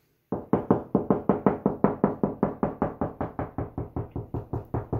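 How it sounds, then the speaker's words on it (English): Knuckles rap on a bathroom wall to find a stud, a rapid even series of about twenty hollow knocks, close and distinct, with no talking. "let's do the knock test"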